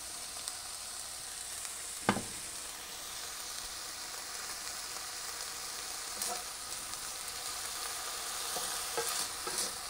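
Tough goutweed leaves stir-fry in a pan with a soft, steady sizzle, broken by a sharp utensil clack early on and a few lighter scrapes later.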